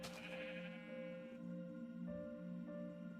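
Sheep bleat in a Minecraft world where the flock is split into sixteen pens, one per wool color; several overlapping blocky bleats ring out over a steady droning hum.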